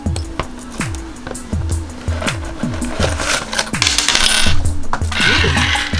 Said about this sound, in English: Ooh, from the sound of that, you know what that is. We have some coins.